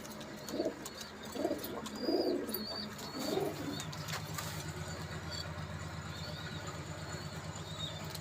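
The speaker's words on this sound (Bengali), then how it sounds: "এই রুমেও কিন্তু অসাধারণ কবুতর রয়েছে আরও অনেকগুলো" Imported Pakistani Teddy pigeons coo in a loft breeding room in a series of soft, low, throaty bursts, followed by a steady mechanical hum that continues for the rest of the clip.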